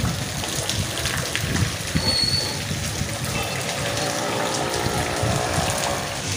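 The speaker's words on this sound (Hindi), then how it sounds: "तो छीटा छीटा बारिश अभी भी हो रही है।" Steady, light early-morning drizzle in Bidar, India, broadband hiss and scattered drips, continuous throughout with a faint background hum.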